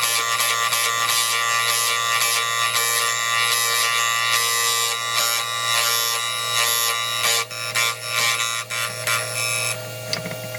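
An EMG 12 end mill grinder grinds the flutes of a half-inch end mill with a continuous loud, high buzzing whine that runs close and steady, easing and fluttering toward the end as the cut lightens.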